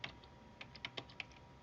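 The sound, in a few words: typing directory name on computer keyboard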